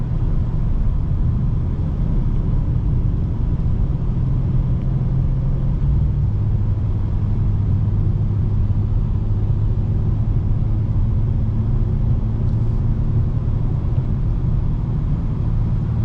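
Steady low engine drone and road rumble from a 2025 BMW M4 Competition cruising in sixth gear on the highway, continuous and near, with a slight shift in pitch partway through.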